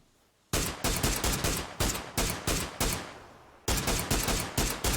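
In the video game PUBG, an SLR rifle fires a long string of loud, sharp shots at a rapid, slightly uneven pace, with one brief pause between bursts and no talking.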